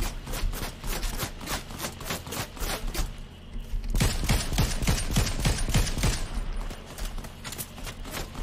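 Rapid gunfire rattles down from a mountain in the Fortnite video game, with dense, continuous bursts of shots that barely pause across the whole stretch and only thin briefly near the middle.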